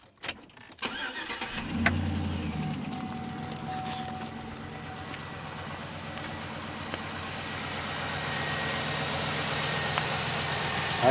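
A car engine cranks and catches, then settles into a steady idle with a low rumble that grows slightly louder toward the end.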